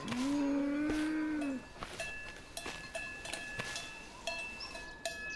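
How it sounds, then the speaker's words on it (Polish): In a video game, a cow gives one loud, long moo close by, followed by scattered clicks and short tonal game sounds, with no talk. "to jest krowa i kurczak"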